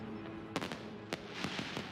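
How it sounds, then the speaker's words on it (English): Fireworks going off at a distant outdoor event, several sharp cracks and booms scattered irregularly over a low background hum, fairly faint. "Fireworks going on."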